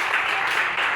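Congregation applauding inside a church: a burst of dense, steady clapping from many hands, close and loud, lasting about a second.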